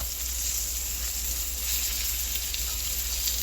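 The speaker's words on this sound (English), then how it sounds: "This little piece been frying for the longest." Floured pieces of food fry in hot oil with a steady, close, even sizzle and crackle that holds throughout, with no voices heard.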